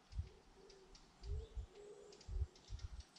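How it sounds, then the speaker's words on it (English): Faint bird calls outdoors, a few soft low coos repeating at intervals against a quiet open-air background. "All I can hear is birds and flies."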